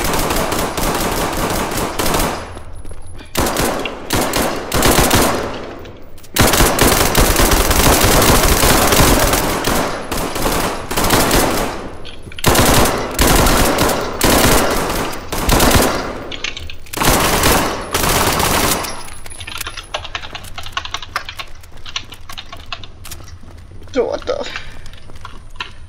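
Rapid automatic gunfire in the video game SCP5K, loud sustained bursts with short gaps that taper off toward the end, with players talking over the shooting.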